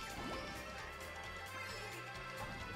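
A kart in Mario Kart 8 Deluxe slams into a pole, giving a sharp crash burst over the game's steady engine and music bed, with no voice over it.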